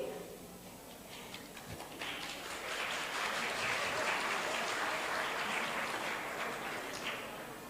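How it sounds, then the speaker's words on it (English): Audience at an international humanities and social science conference breaking into applause, swelling from quiet into a dense, sustained round of clapping that fades slightly at the end. "May I have a round of applause,"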